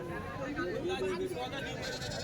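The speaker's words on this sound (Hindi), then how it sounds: "इधर ये भेड़ों का सौदा चल रहा है" Sheep bleat in short wavering calls at a busy goat and sheep market, heard under nearby talk and crowd noise.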